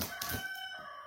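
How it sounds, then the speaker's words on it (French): A rooster crows in the background, a faint, drawn-out call in a quiet outdoor setting with no one speaking. "Merci le coq."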